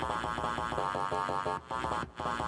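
A side-chained bass line pumps in time with a bass drum, the sustained tone ducking rhythmically on each kick in a steady repeating pattern, loud and close, with a couple of brief dropouts near the end.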